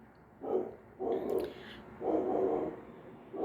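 A dog gives three or four muffled, low woofs in an irregular rhythm. Each one is fairly close and moderately loud against a quiet indoor background.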